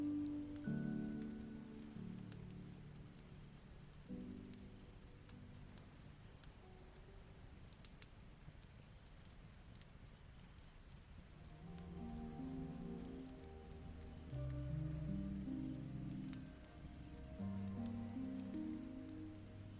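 Rain falls steadily outside on a cold day, a soft constant patter that runs throughout under faint background music, with no talking.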